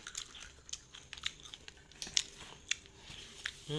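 Crunchy seafood fish crackers (khao kriap pla) are bitten and chewed up close, giving a run of short, crisp crunches and crackles at an uneven rhythm, with no talking.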